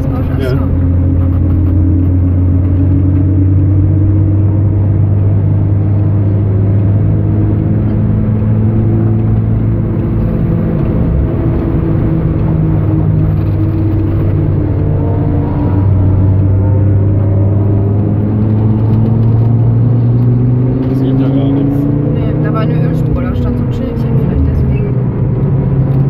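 An Audi TT RS and a BMW M2 lapping the Nordschleife, with a loud, continuous engine drone and tyre roar whose pitch sweeps up and down through gear changes, close and filling the whole stretch.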